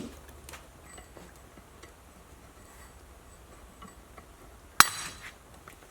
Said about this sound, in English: I do not like slide hammering this